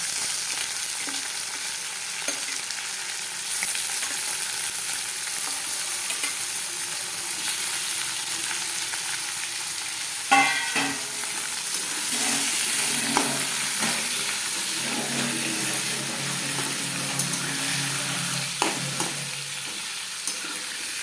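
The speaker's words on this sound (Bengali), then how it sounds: "মাংসটা এখন ভাজা ভাজা করে পরে মশলাটা দেবো" Chicken pieces fry in a pan for chicken kosha, a loud, steady sizzle with occasional scraping knocks as the meat is stirred, heard up close.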